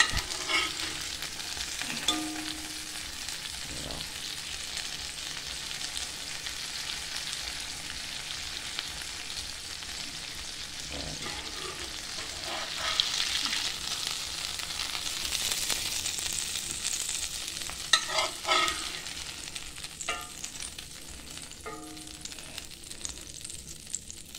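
Mutton mince kababs fry in a pan with a steady, moderately loud sizzle lasting throughout, broken by occasional clicks and scrapes as they are turned.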